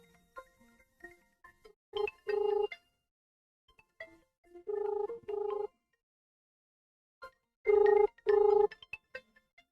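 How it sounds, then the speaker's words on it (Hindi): A phone call rings out through a handset in paired electronic bursts, repeating three times with pauses between, fairly close and clear over faint background noise. "फोन लग रहा है, हम फोन कर भी रहे हैं, फोन लग भी रहा है"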